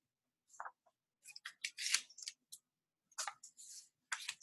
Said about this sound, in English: I fold it into a triangle, and then I'm gonna cut it out here.